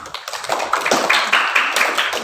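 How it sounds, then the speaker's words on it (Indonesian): Students in a madrasah classroom break into applause together, a dense patter of many hands clapping at close range for a couple of seconds. "Tepuk tangan dulu untuk semuanya"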